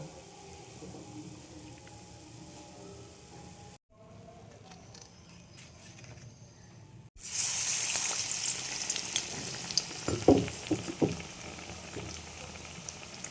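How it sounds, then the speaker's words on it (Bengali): Bread pakoras frying in hot oil: a low, even hiss that drops out briefly, then returns as a louder, dense crackling sizzle with scattered bubbling pops, close and without any talking. "এইভাবে সব ব্রেড পকোড়াগুলো আমি ভেজে নেব"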